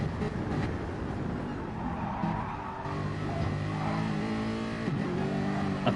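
A race car in Gran Turismo Sport revs hard in second gear, its engine note rising and falling steadily with brief tire squeal, loud and close throughout.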